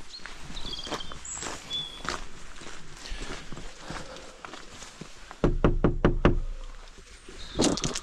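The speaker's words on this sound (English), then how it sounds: "Let's go give the door a knock." Knocking on a front door during a walk around Edenvale, heard as a cluster of several sharp, close raps after footsteps and outdoor movement, with another burst near the end.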